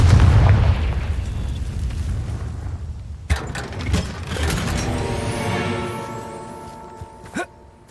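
A Confringo blasting spell explodes in Hogwarts Legacy, a heavy booming blast that rumbles and fades, followed by a second sharp burst and scattered debris pops.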